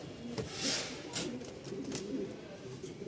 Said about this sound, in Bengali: নর ফাটাফাটি ডাকের একটা নর ডাক দেখলেই বুঝতে পারবেন আসেন একটু ডাকটা দেখাই